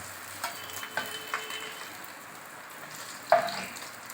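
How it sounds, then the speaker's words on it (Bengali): Hilsa fish heads frying in a pan, a quiet sizzle under a few soft scraping stirs, ending with one louder clatter near the close. "এবার আমি মাথাগুলো ভেজে নিলাম।"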